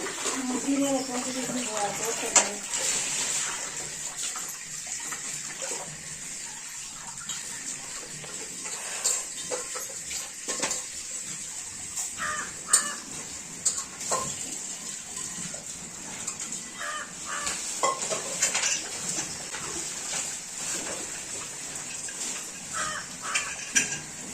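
Pots and pans are washed by hand under running water, with intermittent clinks and splashing, crows cawing nearby and a voice talking over it.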